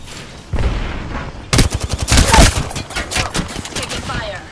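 Rapid automatic gunfire in an Apex Legends battle royale match, dense bursts of close shots with a few heavier booms, loud and continuous after a brief opening shot.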